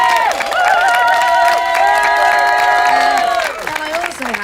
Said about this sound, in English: can I quickly have a round of applause for our signer, Katie.